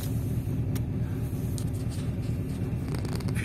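A Volkswagen Golf 3 engine idles after a cold start at minus twenty, with a steady, close, low rumble and light uneven roughness, occasional faint rattles over the drone.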